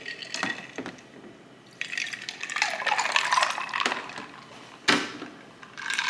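Regular 2% milk poured into a cup of coffee, a close, soft liquid trickle and glug that swells and fades with a few small knocks and clinks along the way.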